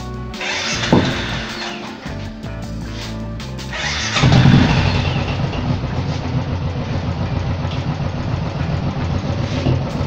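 Royal Enfield EFI motorcycle engine idling steadily while its idle setting is adjusted by hand, a continuous low rumble with a brief rev swell partway through, close and fairly loud.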